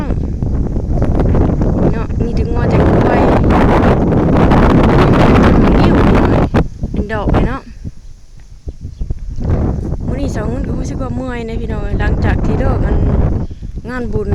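Wind gusts buffet the microphone outdoors across rice paddy fields, a loud continuous rumble and roar with a quieter lull midway, while someone talks over it.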